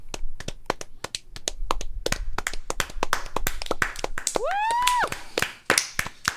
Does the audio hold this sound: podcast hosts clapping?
yes